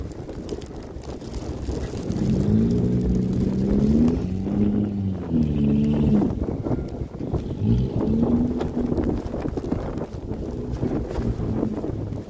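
Car engine revving and whining in strained rising and falling pitches as it struggles in snow during a Toronto snowfall, loud and close amid wind noise, without speech.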